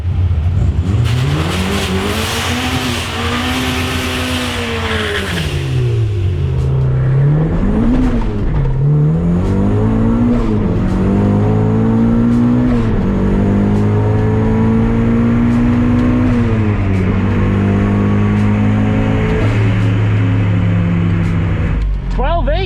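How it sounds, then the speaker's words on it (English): A 388 whp Mazda Miata launching down a drag strip, engine roaring loud and close as revs climb and drop through gear shifts, including a missed shift into fifth, with a voice over the noise. "So then I did my second pass, which was much better, but I missed fifth gear."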